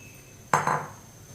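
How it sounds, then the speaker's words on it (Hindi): A spoon hits a pan once while ground spices are mixed into hot oil for a raw mango pickle, making a single short metallic clatter with a second smaller knock right after. "मिक्स कर लेंगे।"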